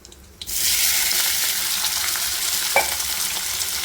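Soybean chunks drop into a hot pan with loud steady sizzling and frying hiss, starting abruptly and continuing throughout, with one brief clink partway through.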